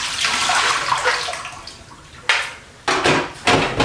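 Leftover water pours out of the removable tank of a DeLonghi Caffe Corso coffee machine, a close splashing stream that fades and then returns in two short bursts.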